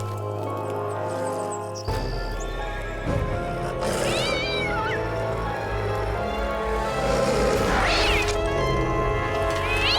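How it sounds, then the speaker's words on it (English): A cat meows several times over a steady low background hum, its calls rising and falling in pitch around the middle and again near the end, fairly close and clear. "stupid cat"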